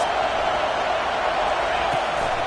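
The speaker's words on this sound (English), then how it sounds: "Listen to this crowd just shaking the girders of this place trying to help their defense." A college football stadium crowd roars steadily to back its defense, a dense, loud, unbroken wall of noise that fills the whole stretch.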